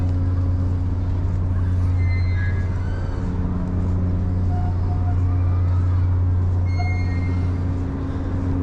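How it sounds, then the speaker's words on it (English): Boat engines run steadily and loudly near a harbor in Kobe, Japan, a constant deep droning hum with faint higher tones drifting over it and no pauses. "I can hear the boat engines running,"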